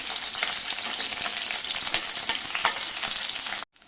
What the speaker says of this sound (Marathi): कढईमध्ये तीन चमचे तेल गरम करत ठेवलं आता याच्यामध्ये एक सात आठ मिरच्या मी कट करून घेतल्या त्या टाकायच्या